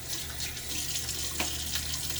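Steady running tap water splashing into a sink while shaving, continuous and close with a few small splashes from hands.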